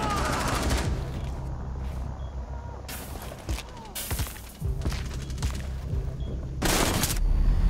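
Bursts of automatic gunfire in a Rainbow Six Siege bank match, several loud rapid fusillades separated by brief pauses, with a final sustained burst, harsh and close, mixed with game sound effects.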